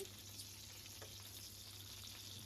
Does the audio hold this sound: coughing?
no